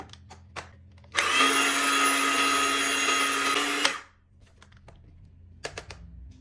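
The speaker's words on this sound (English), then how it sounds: "put the cream cheese and cream, blend them for a minute" A kitchen blender whirs loudly and steadily for about three seconds as it mixes cream cheese and cream for a baked cheesecake, then cuts off abruptly, leaving quiet room tone.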